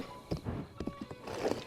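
A horse in The Legend of Zelda: Breath of the Wild clip-clops along in uneven hoofbeats, then gives a close, breathy neigh near the end.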